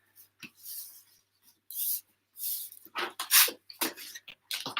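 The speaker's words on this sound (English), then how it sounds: "I'm folding it one more time." Paper being folded and creased for a homemade hand fan, giving short separate scraping and rustling strokes with brief silent gaps between them, heard close and alone.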